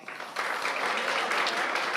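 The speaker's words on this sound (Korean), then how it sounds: "우리 성도님들께서는 박수로 뜨겁게 축하해 주시기를 바랍니다" A church congregation applauds warmly after an award presentation at a Sunday worship service, steady dense clapping from many hands that swells within the first moment and holds without talk.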